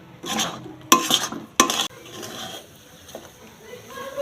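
Green pea filling for kachori being stirred in a pan over low heat, with bursts of utensil scraping and clanks against the metal, a soft background sizzle and a faint voice in between.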